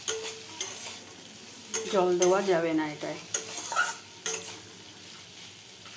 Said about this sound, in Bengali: এবার আমি মাছটা দিয়ে মাছটা দিয়ে দেবো, দিয়ে আমি ভালো করে ভাজা ভাজা করে আমি তোমাদের দেখাচ্ছি।